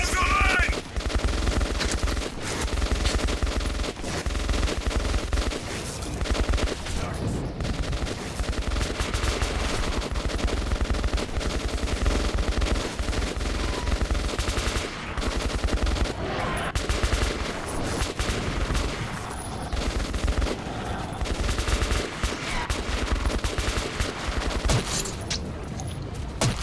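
Sustained gunfire from Metro 2033 Redux, with dense automatic bursts and overlapping shots rattling almost continuously at loud, steady intensity.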